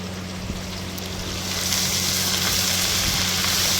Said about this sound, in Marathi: आता कढीपत्ता टाकते.